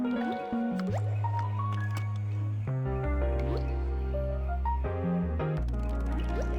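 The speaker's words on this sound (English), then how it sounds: "I made a funnel out of an old bottle that I use for pouring oil into the engine." Motor oil runs through a funnel cut from an old bottle into a VW Beetle engine, making close, steady glugging and gurgling with a series of wobbling tonal burbles as air bubbles back up through the stream.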